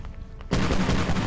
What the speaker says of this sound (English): now they're shooting one down